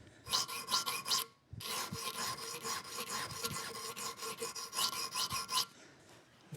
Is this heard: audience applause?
no